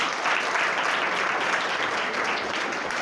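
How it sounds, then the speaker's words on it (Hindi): A classroom of students applauding together on the teacher's request, a dense, even burst of many hands clapping at close range that holds steady for a few seconds. "ताली बजाओ एक बार।"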